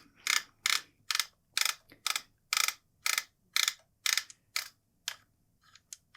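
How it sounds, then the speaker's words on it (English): Repeated ratcheting clicks come in about a dozen evenly spaced bursts, close and crisp, as the threaded magazine tube cap of a Stevens 320 12-gauge shotgun is unscrewed, then stops with a few faint clicks. "take this magazine tube cap off. You should be able to unscrew it."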